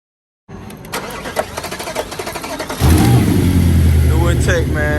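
An Audi A8 engine with a new intake manifold cold-starting: starter cranking in rapid pulses, then the engine catches and settles into a loud, rough high idle close by, with a voice briefly heard near the end.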